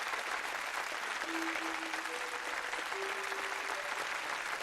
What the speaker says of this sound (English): Stop with the clapping.